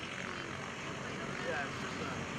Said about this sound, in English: Kendal Simpson's got the throttle pulled back. He's going to slip this airplane in.